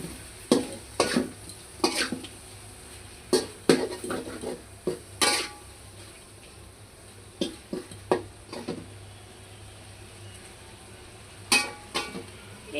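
Vegetarian patal kaliya, a pointed-gourd curry, being stir-fried in a pan as its liquid dries off, with a spatula scraping and clattering in irregular bursts over a faint low sizzle.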